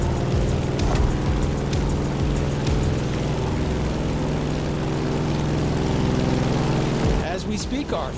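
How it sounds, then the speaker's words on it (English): Grumman F8F Bearcat propeller plane in a racing video game, a steady loud droning engine hum held throughout, with a brief shift near the end and narration over it. "In the cockpit of a stunning Grumman F-8F Bearcat, or simply the Bear."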